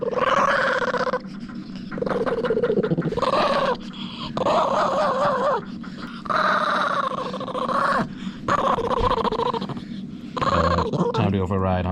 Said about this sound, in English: Look at this cute dog. You gonna growl for me?